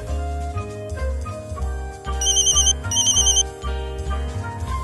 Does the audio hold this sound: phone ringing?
yes